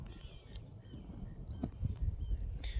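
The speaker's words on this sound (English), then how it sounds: "haven't seen anything over here other than birds, and well, you can hear the little guys back here" Small birds give faint, brief chirps and calls from a distance in woodland in the Florida Panhandle, scattered over a low outdoor rumble.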